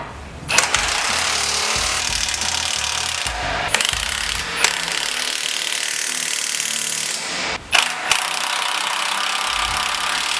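A power tool buzzes and rattles in long, loud bursts while tightening the mounting bolts of a Rockarmor 120 Series wheel carrier on a Toyota Prado, broken by a few brief pauses and clunks.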